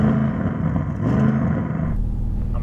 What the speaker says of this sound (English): RS6, can you rev up your car?